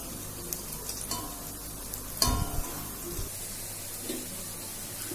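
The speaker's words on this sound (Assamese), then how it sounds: "ধুনীয়াকৈ পকৰিখিনি ধুনীয়াকৈ ৰঙাকৈ ভাজি ল'ব লাগিব" Pakoras fry in hot oil, a continuous sizzle with occasional stirring clatter and one louder scrape or clunk midway, close and steady with no talking.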